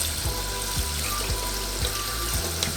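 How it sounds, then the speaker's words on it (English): Cold tap water runs steadily over cooked spaghetti in a colander to stop it cooking, a continuous close splashing hiss with faint clinks, no voices. "Got cold water running on it."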